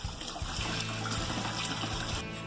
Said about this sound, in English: Just underneath some hot water, just knock out any of them loose seeds and the debris.